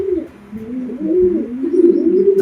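Racing pigeons, a stock bird among them, coo in low, soft rolling phrases that run steadily and fairly close, with no talk over them.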